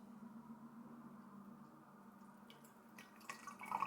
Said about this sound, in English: this drips a little bit because it's so big